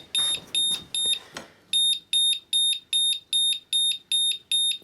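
Faulty Sunshine 2kW inverter sounding its alarm: a run of sharp, high electronic beeps in an even on-off rhythm, with a little speech and rustle at the start before the steady pulses continue alone.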